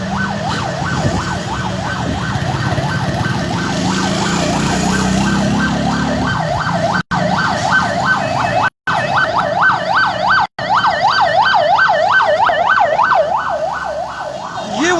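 An ambulance siren on a road wails in a steady, rapid up-and-down cycle, loud and close, over traffic rumble, with a few brief dropouts.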